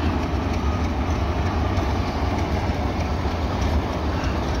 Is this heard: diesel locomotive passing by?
yes